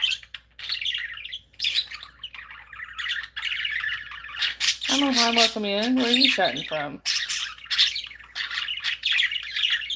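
Pet birds with recently clipped wings squawk and chirp steadily near a microphone during a late morning livestream, with a burst of loud squawks in the middle and a person talking over them.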